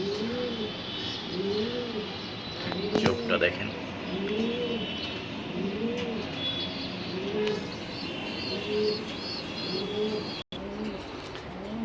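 Racing pigeons coo in a slow, regular rolling rhythm close by, with someone speaking briefly over steady background noise.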